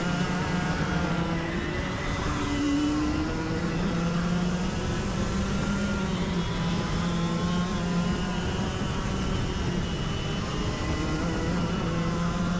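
Go-kart engine held flat out along a racing straight, a loud, steady, high droning whine with slowly shifting pitch, heard close and continuous with no talking over it.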